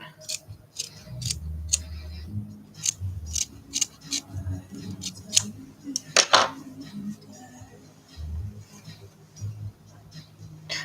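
Scissors snip repeatedly while trimming fabric on a sewn cat toy, giving a string of short, crisp, close cuts in an uneven rhythm, with low murmuring and handling noise underneath.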